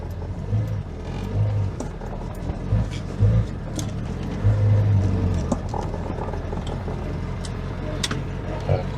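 A classic car is driven out of a farm building, with its engine rumbling and revving at close range, and low tyre and mechanical noises run underneath.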